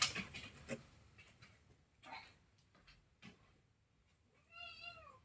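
A cat meows faintly indoors, a few soft scattered calls with quiet rustling between them and a clearer, wavering meow near the end.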